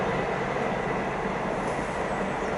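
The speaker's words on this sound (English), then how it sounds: "now we got a class 43 HST on approach, or a class 158" A British Rail class 43 HST or class 158 train approaching, a steady broad rumble and rush of wheels on track that holds at an even loudness throughout.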